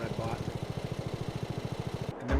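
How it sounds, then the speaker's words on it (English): A small handheld lawnmower engine in Farming Simulator 22 putters at a fast steady pulse, close and fairly quiet, then cuts off abruptly near the end. "here's the little handheld lawnmower that I bought"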